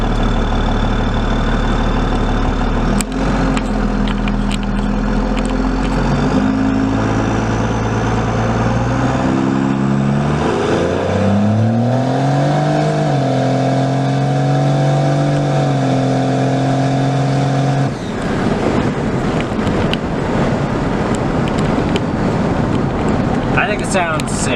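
A diesel truck fitted with an exhaust stack rumbles from inside the cab with the windows half down, the engine droning steadily and rising in pitch as it accelerates, loud and close, with a voice talking over it.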